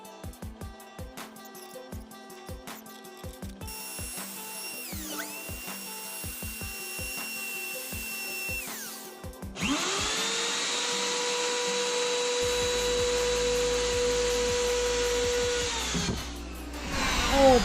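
A power tool fitted with a straight router bit cuts lines into EVA foam decking, first a series of rapid clicking bursts, then a loud, steady high-pitched motor whine that runs for several seconds close by.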